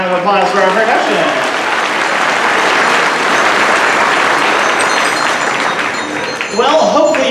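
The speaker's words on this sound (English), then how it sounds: "And a round of applause for our percussion." Audience applause for percussion students at a school band concert, a loud, dense wash of clapping filling the whole stretch, swelling slightly near the end.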